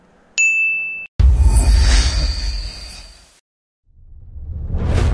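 A bright electronic notification ding rings out once at the start, followed by a loud whooshing swoosh with a low rumble, a brief silence, then another rising whoosh, a subscribe-button sound effect.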